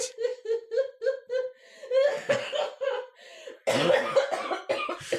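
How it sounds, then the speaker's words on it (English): A voice gives a run of rhythmic, wheezy laugh-like bursts that break into harsher, louder coughing near the end, close to the microphone. "the laughs turn to coughs a lot faster right now"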